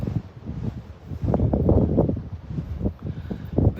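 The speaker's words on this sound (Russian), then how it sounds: "Ветра, постоянные ветра" Strong, steady wind buffets the microphone at a Hurghada beach resort on the Red Sea, a continuous rough rumble with gusty surges and no voices.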